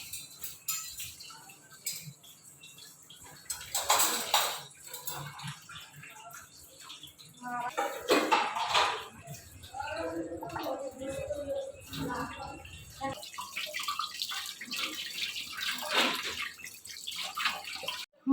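Tap water runs and splashes in a home kitchen while fish is washed, with drips and gurgles rising and falling, fairly faint, and a voice speaking over part of it.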